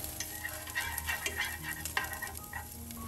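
Dried shrimp and garlic stir-fried in a pan, a steady close-up sizzle with quick scraping and tossing sounds from the stirring utensil throughout.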